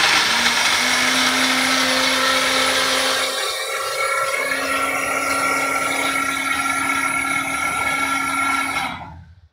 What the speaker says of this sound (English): Then you're going to put them in the blender.